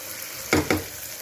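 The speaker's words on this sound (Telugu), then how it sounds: "బాగా వేయించుకోవాలి టమాటాలు బాగా వేగినాయండి" Tomatoes frying with chili powder, coriander powder, turmeric and salt in a pan for a mattikaya pulusu, with a steady hiss and two quick stirring scrapes up close.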